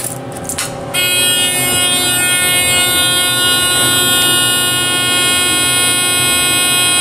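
An OTIS Series 1 hydraulic elevator in fire service mode sounds a loud, steady electric buzzing tone that starts after about a second and holds without a break, with no one talking.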